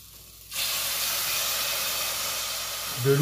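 Broth ladled into a hot pan of rice for a four-cheese risotto, setting off a sudden loud, sustained hiss and sizzle that holds steady for nearly three seconds, close up with no speech.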